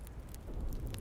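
Rain falling steadily at night, a soft even patter with a few sharper drops hitting a surface, close and unbroken with no voices.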